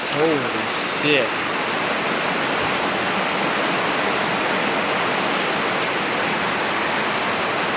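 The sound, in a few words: really heavy rain and wind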